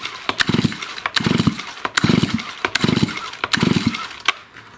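The engine of a STIHL MS271 chainsaw is spun quickly to check for spark, giving five rhythmic, loud whirring pulls, each led by a sharp click, close by with no talking.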